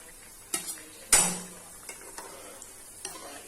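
Carrot vadas being flipped in hot oil in a pan: a soft sizzle underneath with a sharp metal utensil clank against the pan, followed by a few lighter scrapes and taps.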